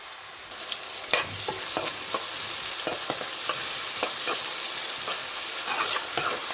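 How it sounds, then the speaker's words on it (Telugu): Onion pieces and green chillies frying toward golden brown for a brinjal curry make a continuous loud sizzle, punctuated by frequent quick spatula stirs close at hand, with no talking. "పచ్చిమిరపకాయలు, ఉల్లిపాయ ముక్కలు వేసి గోల్డెన్ బ్రౌన్ కలర్ వచ్చేదాకా వేయించుకోవాలి"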